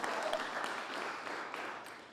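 A crowd at a chamber-hosted mayoral candidate forum applauds for event sponsors, steady dense clapping throughout, fairly quiet and slowly tapering toward the end, with faint voices mixed in.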